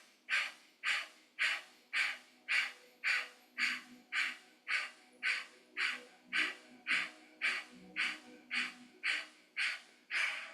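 Rhythmic forceful breaths during a yoga breathing exercise, about twenty sharp even exhalations in a steady pulse, close and alone with no talking.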